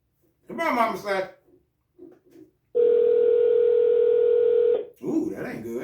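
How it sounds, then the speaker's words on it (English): A telephone ringing tone sounds as a call is placed, one long steady tone lasting about two seconds, with someone talking before and after it. "Come on, answer the phone."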